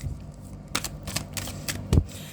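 Tarot cards are shuffled close up, giving a few quick papery riffles and soft slaps, ending with a louder tap as the deck settles.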